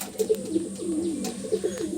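Pigeons in a loft of birds brought from Andhra Pradesh give repeated low, rolling coos close by, several calls overlapping in loose rhythm.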